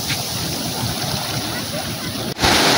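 Ocean waves at Jimbaran beach in Bali roll in as a steady, loud wash with wind buffeting the microphone and a brief dip near the end.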